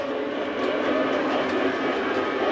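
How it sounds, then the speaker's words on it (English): Model trains run steadily around a Halloween layout, a dense, even rolling rumble that holds at a constant level throughout with no voices. "It's the fun of trains, just running them and running them."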